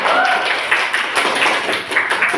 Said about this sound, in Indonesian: Silakan tepuk tangan.